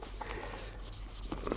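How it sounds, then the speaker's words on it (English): Cotton wool is rubbed back and forth to lift off old polish, a soft, faint, continuous scrubbing close by with no voices. "So just rubbing away."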